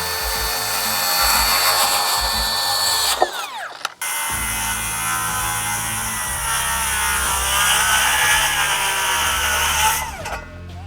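Two loud, close cuts with a power saw through exterior lumber boards, each a steady high whine with a brief pause between them, ending as the blade winds down.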